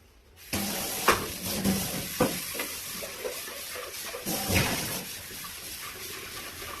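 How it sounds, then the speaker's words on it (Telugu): Running water splashes and swishes while a pressure cooker is washed, a continuous close wash with a few louder knocks and scrapes of metal, and no talking. "ఇప్పుడు కుక్కర్ కడిగేసి అన్నం వేయాలి"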